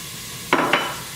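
Two quick scraping strokes of a spoon through chopped onions and garlic in a soup pot, close and fairly soft over a low background hiss.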